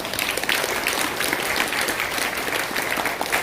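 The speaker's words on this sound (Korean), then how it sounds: "우리 목사님 나오실 때 박수로 맞아주시기 바랍니다." Sustained applause fills a church ordination service as a pastor comes forward to preach, a dense, steady clapping from the congregation that holds at an even level throughout with no speech over it.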